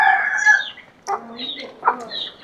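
Chickens cluck and a rooster crows nearby at a rural Thai home, several short calls coming one after another, fairly close and clear.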